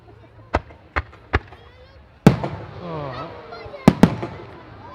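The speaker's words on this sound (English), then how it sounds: "This is a seriously heavy shell, probably one of the heaviest shells out there on the firing side." Heavy shells launched at a European firework display at a festival. Three sharp, spaced launch thumps are followed by a loud boom with crackling trails and then two more close bangs. A commentator's voice is audible.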